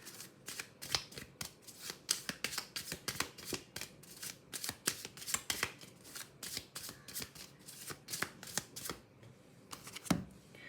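A deck of oracle cards shuffled over and over in quick, crisp riffling bursts, close and clear with no talking, ending in one louder thump.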